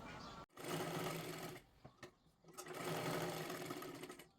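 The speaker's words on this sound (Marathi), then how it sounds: "सुरुवातीला आपला हा टक शिलाई करून घ्यायचा आहे" A sewing machine stitches a tuck into a blouse, the motor whirring in close, steady runs broken by brief stops and short start-stop bursts.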